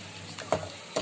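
Green chillies hit hot oil with softened onions in a pan for mutton pulao, giving a quiet sizzle broken by a couple of short stirring scrapes and a louder burst near the end.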